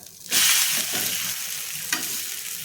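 A wheat-flour dhirde pancake sizzles steadily in a hot pan after being flipped, with a sudden loud burst of frying at the start that settles into a continuous close crackle and a brief spike near the end.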